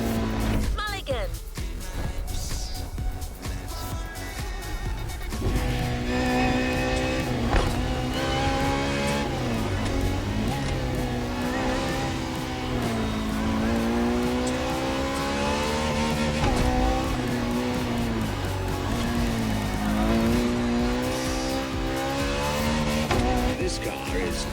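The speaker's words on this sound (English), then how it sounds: "second lap, you'll be driving the FXXK." A Ferrari FXXK supercar, a track version of the LaFerrari, races in The Crew Motorfest with a loud sustained engine whine rising and falling through gear changes, close and continuous, while a voice talks over it.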